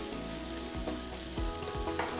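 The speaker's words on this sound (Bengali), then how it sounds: "ভেতরে যে পেঁয়াজ রসুনটা কাঁচা ছিল সেটা কিন্তু এখন ভাজা ভাজা হয়ে যাচ্ছে" Gourd-leaf fritters stuffed with chepa dried fish, onion and garlic fry in oil with a steady, dense sizzle and crackle, close and continuous, with no voices.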